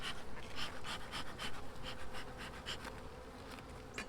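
Honey bees buzz steadily inside a winter hive fed on a sugar board, a dense close drone with pulsing swells of louder wingbeat noise throughout.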